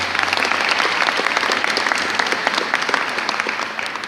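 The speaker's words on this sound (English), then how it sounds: "Give it applause." Crowd applause at the ribbon cutting for a new high school building, dense continuous clapping from many people held at an even level throughout.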